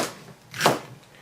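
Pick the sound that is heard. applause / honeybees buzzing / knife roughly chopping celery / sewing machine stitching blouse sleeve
knife roughly chopping celery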